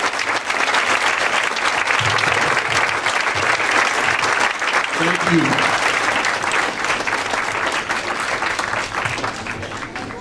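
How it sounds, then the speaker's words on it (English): Audience applause at a 2015 closing ceremony honoring interns, graduates and instructors, a dense, steady roar of many hands clapping for about ten seconds, with a speaker briefly talking over it. "Let's give all of these individuals a nice round of applause"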